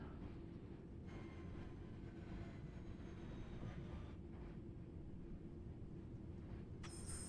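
A train in Train Sim World trundles into Birmingham New Street with a steady low rumble of wheels and motors, continuous and fairly quiet, ending with a short hiss and no voices.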